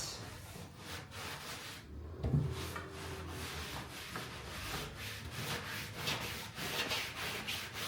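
Steady back-and-forth scrubbing against a thrifted wooden dressing room furniture piece, a dry rasping rub repeated in a loose rhythm, close by.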